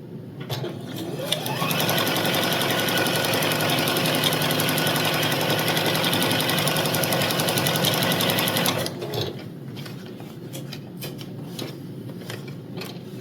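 A sewing machine stitches quilt pieces together in one steady, fast mechanical whir for about seven seconds, then stops, leaving quieter handling clicks.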